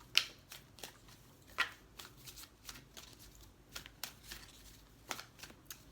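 Tarot cards are shuffled and drawn, producing soft, quiet bursts of riffling and flicking paper that come in uneven clusters.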